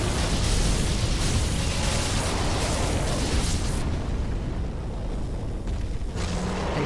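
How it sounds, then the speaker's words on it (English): A boss breathing fire in Dark Souls 3, heard as a continuous loud roaring rush of flame that fills the whole clip without pause, with no talking over it. "And you see there he goes to breathe fire again"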